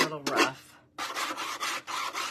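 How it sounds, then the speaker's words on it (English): Rough rasping strokes of sandpaper on scorched wood, a couple of short passes, a brief pause, then several steady back-and-forth rubs close by. "here is a little bit of sanding"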